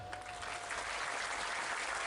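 An audience at a religious lecture claps together, a dense burst of applause close and steady for its whole short length.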